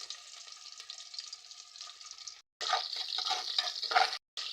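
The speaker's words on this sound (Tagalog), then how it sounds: "Ayan, start na tayong mag-gisa." Garlic, onion and ginger sizzle and fry together in a pan, a steady close crackling hiss with a brief gap midway before the frying surges louder again.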